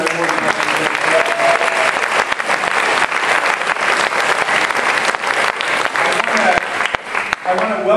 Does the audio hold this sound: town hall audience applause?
yes